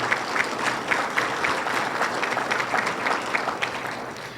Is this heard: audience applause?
yes